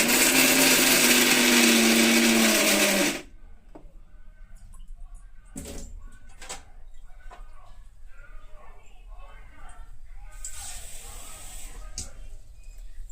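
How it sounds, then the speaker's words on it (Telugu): A mixer grinder whirs loudly for about three seconds grinding peanut chutney, then cuts off, leaving quiet kitchen clatter and a brief whine near the end. "కొంచెం వాటర్ వేసుకుని అప్పుడు మిక్సీ పట్టుకుంటాం"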